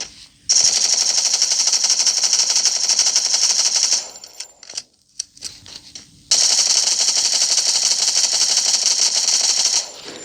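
Submachine gun firing full-auto in a video game, long sustained loud bursts of rapid rounds with a brief broken gap of scattered sound between them, close and dominant.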